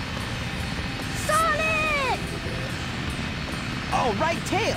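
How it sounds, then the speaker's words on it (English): Tails' plane flies in Sonic Adventure DX, a steady engine drone running under the game's character voices, with brief rising and falling tonal swoops. "This plane's cool."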